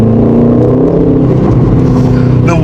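An Aston Martin Vantage in Sport Mode Plus revs loudly and steadily from close by, a dense throaty engine roar that holds throughout with slight pitch shifts.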